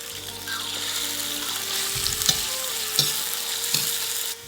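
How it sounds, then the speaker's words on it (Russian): Steady sizzling of meat frying in hot oil for lagman, with a few soft clinks and stirring bumps over the continuous crackle. "Масло разогрелось, можно начинать жарить мясо."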